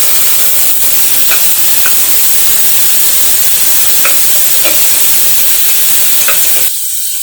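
Chopped tomato fries in hot peanut oil for mutton kari dosai at a Madurai street food stall, giving a steady loud sizzle with a few light clinks of a stirring utensil throughout.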